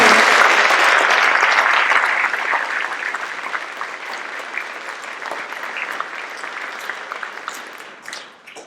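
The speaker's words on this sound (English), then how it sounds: "A round of applause to our senior members of the class of 2022" Sustained applause from an audience honoring senior members of the class of 2022 at a school world language awards ceremony, loud at first and gradually tapering off across the stretch, with no voices over it.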